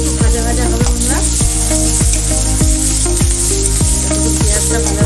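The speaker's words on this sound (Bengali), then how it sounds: "পেঁয়াজটা একটু ভাজা ভাজা হবে" Onions frying in oil with whole garam masala spices, a loud steady sizzle and hiss under a continuous background of music with rhythmic beats.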